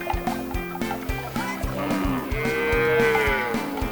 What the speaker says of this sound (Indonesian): Kebetulan nih, udah waktunya sapi-sapi ini cari makan keluar kandang.